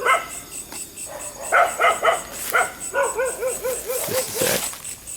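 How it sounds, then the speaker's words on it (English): Stray dogs bark at night in Bali, a run of sharp, fairly close barks and yips in quick bursts, with insects faintly audible beneath. "A lot of stray dogs"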